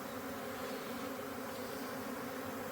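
A honey bee swarm settling into a new home buzzes steadily and densely, the massed wingbeats forming a continuous close hum with no talking.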